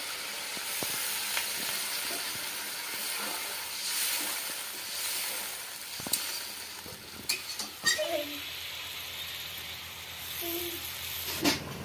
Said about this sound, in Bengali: ভালো করে কষা হয়ে গেছে, আমরা জল দিয়ে দেবো।